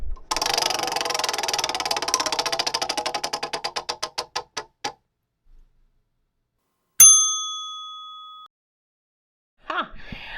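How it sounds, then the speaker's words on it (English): A prize spin wheel clicking rapidly, the ticks slowing and spacing out until it stops, then a bright bell-like ding rings out and fades after a pause. "this is where we do the spin wheel and let it choose for the book"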